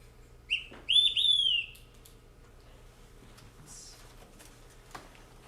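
An olive-sided flycatcher gives a single clear whistled three-note song, loud and rising then sliding down, followed by quiet background with a faint distant chirp.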